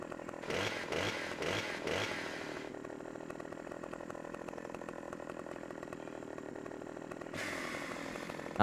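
A chainsaw felling a tree in Farming Simulator 17, opening with a few sharp revving bursts, then settling into a long steady cutting drone before revving up again at the end.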